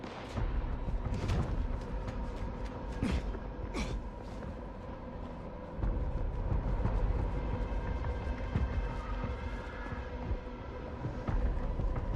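Gunfire and booming shots in the vampire action game Vampire: The Masquerade Bloodlines 2, loud bursts and sharp cracks scattered over a dense, continuous rumble of combat noise throughout.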